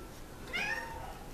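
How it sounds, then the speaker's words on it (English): A single short meow from a cat, a gray male newly moved into a room and known for meowing for attention, rising briefly above quiet room tone with no speech. "usually meowing for attention"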